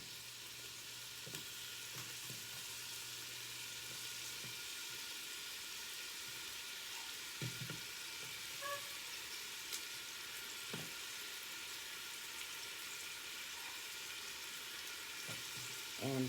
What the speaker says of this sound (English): just put in your onions, and you kind of want them to get a little caramelized.